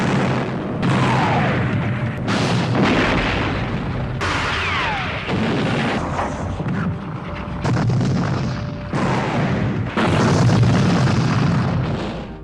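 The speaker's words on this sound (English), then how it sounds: "the French launched a fierce artillery barrage on the British positions" A loud, dense artillery barrage from a Napoleonic battle reenactment: booming cannon fire in rapid overlapping volleys that roll on almost without pause, heavy and close.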